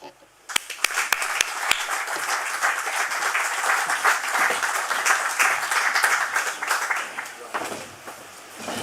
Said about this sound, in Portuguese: Está de parabéns e merece aplauso o autor